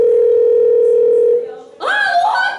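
A telephone dial tone hums steadily and loudly for over a second during a school New Year comedy contest, then cuts off as a voice starts speaking.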